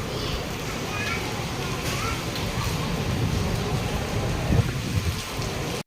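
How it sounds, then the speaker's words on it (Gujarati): Heavy rain pours down in a dense, continuous roar, loud and close, at a temple during evening aarti, with faint voices buried underneath. "બહુ વરસાદ આવે છે"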